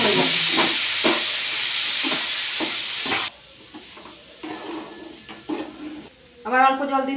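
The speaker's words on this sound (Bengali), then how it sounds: "আমি অল্প জল দিয়ে দিয়ে নাড়তে থাকবো।" Semolina pulao being stirred in a pan with splashes of a little water, giving a steady hiss and sizzle with scraping strokes, then quieter stirring scrapes; a voice speaks briefly near the end.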